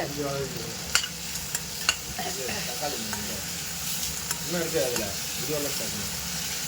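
Blood gravy fries in a pan while being stirred, producing a close, steady sizzle broken by scraping strokes and sharp clicks of a spoon against the pan, with a faint voice in the background.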